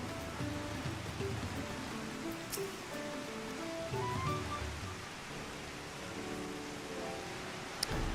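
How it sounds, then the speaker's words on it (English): Steady rain in the game Final Fantasy XIV: Dawntrail, a soft continuous hiss of falling drops with faint background tones and no talking. "the sound of rain will put me to sleep"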